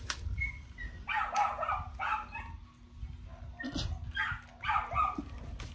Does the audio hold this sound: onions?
no